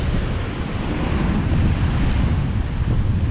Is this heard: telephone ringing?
no